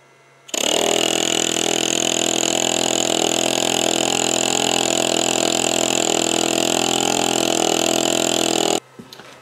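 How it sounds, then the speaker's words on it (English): Electric tire pump converted into a vacuum sealer, running off an old weak battery: a steady loud motor drone with a buzzing whine starts abruptly, holds evenly for about eight seconds, then cuts off. "I'm gonna start the pump."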